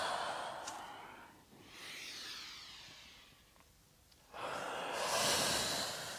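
Slow, audible breaths during a gentle yoga flow for the hips and pelvis, a long exhale followed by a softer pause and then a fuller, louder inhale, close and unaccompanied by talk.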